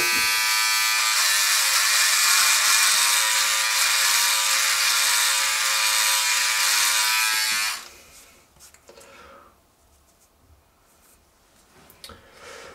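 A Philips OneBlade Pro electric beard trimmer buzzes loudly and steadily up close for about eight seconds, then cuts off, leaving only faint handling noises.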